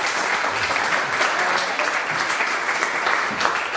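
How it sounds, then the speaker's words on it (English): An audience at a business talk applauds continuously, a dense steady wash of clapping at even loudness with no pauses. "let's give them a round of applause."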